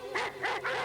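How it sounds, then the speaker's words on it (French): A dog sound effect in a French audiobook of Ali Baba and the Forty Thieves: three quick, close, loud barks in a rapid rhythm, heard alone. "il fixait l'intruse d'un air très menaçant, tout en aboyant de plus en plus fort"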